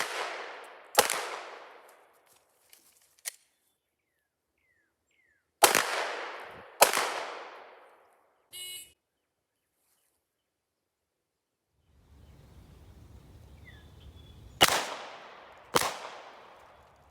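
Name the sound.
Glock 19 pistol shots fired during qualification stage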